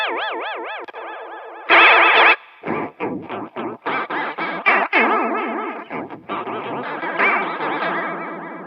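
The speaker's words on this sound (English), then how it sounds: "Mix that with maybe the Hammertone reverb, and you've got this wonderful soundscape of space noises" Warbling, wobbling electric guitar tones through a Fender Hammertone Chorus pedal maxed out, drenched in heavy modulation and echo, choppy bursts of spacey, swirling noise with no speech.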